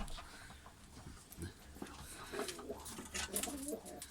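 Pigeons coo and shuffle softly in a rooftop loft holding various breeds, including a tumbler pigeon. The calls are faint and close, with low background noise and scattered rustling.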